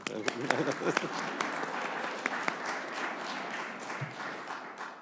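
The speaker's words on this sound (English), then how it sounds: "that applause was in recognition" A room of people applauds steadily, dense clapping with a few sharper claps standing out, moderately distant, while voices murmur underneath.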